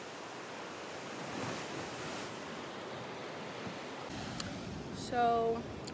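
Ocean waves wash below a cliff in Hawaii as a steady, broad roar mixed with wind buffeting the microphone, with a brief faint voice near the end.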